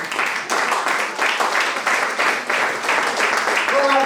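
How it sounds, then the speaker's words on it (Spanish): An audience at a church sermon claps in a full, steady round of applause, loud and continuous with slight surges across the stretch. "Un aplauso a ese."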